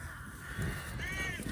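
A flock of about thirty crows caws outdoors in Ireland, a dense overlapping chorus of harsh calls. The birds sound fairly distant but are steady and clear, and nobody speaks.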